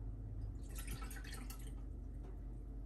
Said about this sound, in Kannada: ಸೊ ಅರ್ಧ ಕಪ್ ಆಗಷ್ಟು ನೀರು ಹಾಕ್ತಾ ಇದ್ದೀನಿ